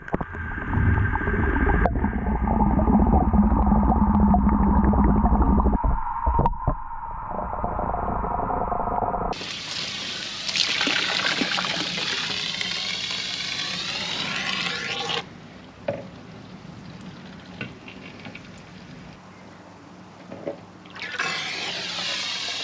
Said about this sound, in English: we're going to pump the water through and see what happens.